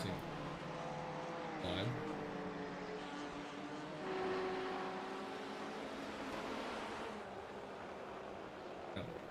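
Race car engines of BMW, Porsche and Ford entries circling Sebring International in a sim racing event, a steady distant drone with a brief louder swell, under continuous commentary.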